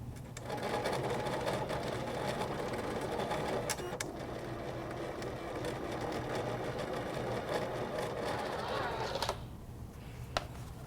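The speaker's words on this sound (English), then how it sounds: "once the machine is done embossing" A cutting machine fitted with a fine embossing tool works across a sheet of foil, giving a steady, faint mechanical whir and hum that runs continuously for several seconds before stopping, with occasional small clicks.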